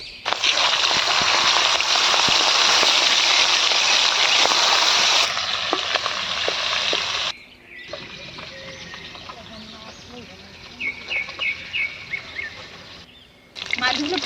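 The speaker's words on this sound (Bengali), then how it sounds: "এবার তেল দিয়ে দিচ্ছি এবার এই মাছগুলোকে ভেজে নেবে" Pieces of hilsa fish fry in hot oil in a Bengali home kitchen, a loud steady sizzle that drops to a quieter crackle partway through, with short bursts of spattering near the end.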